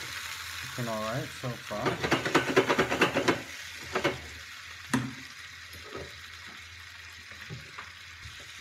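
Sausages sizzle loudly in a frying pan for a full English breakfast, with crackling bursts that fade toward a quieter simmer while a voice speaks briefly over them.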